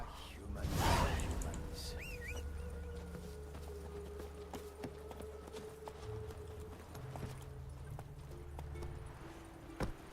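Horse hooves clip-clop in a steady rhythm as a mount travels in The Witcher 3, clear and close against quiet ambient game sounds with a few brief whistle-like notes.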